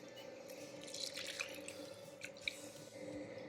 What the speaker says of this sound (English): I'm just going to put half the milk in.